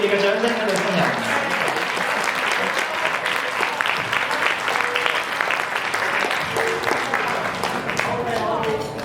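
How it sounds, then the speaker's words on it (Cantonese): Guests at a wedding applaud the newlyweds with loud, sustained clapping, while an MC's voice speaks over the top. "我哋再俾熱烈嘅掌聲俾新人"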